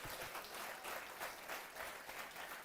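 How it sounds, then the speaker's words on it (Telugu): Applause from an audience at a religious gathering, steady and continuous throughout, a dense wash of many hands clapping together at moderate distance. "ఎంతమంది చప్పట్లు కొడతారు ఈరోజు?"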